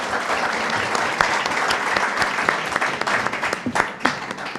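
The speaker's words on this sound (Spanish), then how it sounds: "Le pedimos un aplauso también para mí." An audience at a UFO and extraterrestrial contact conference applauds, a dense, sustained burst of many hands clapping at a steady level across the whole stretch.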